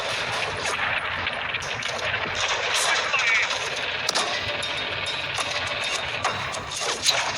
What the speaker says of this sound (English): Americans are pinned down by mortars and machine guns, no matter where they go.